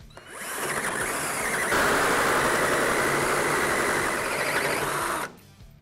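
A hole saw cutting a 90 degree notch in steel tubing: a loud, close, continuous whining grind that spins up, holds steady for about four seconds, then stops abruptly, with nothing else heard.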